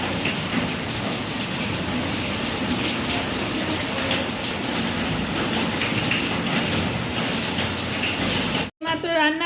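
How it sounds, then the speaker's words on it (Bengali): Heavy rain pours down in a dense, steady roar that stays loud and even for almost the whole stretch, then cuts off abruptly near the end. "কত বৃষ্টি হচ্ছে প্রত্যেক দিনই বৃষ্টি হচ্ছে"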